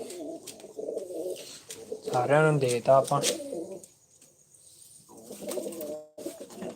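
A pigeon coos loudly and close by in a short burst of throaty, rolling notes, with people talking before and after.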